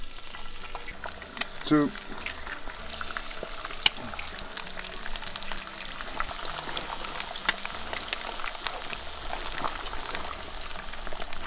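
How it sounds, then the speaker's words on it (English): Eggs fry in leftover bacon fat in a pan at a camp cooking setting in freezing weather, giving a steady close crackling sizzle throughout, with a few sharp pops and a brief voice speaking. "in the same fat, we do our eggs"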